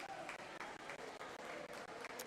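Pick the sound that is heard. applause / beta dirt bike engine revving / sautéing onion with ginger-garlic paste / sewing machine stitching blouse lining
applause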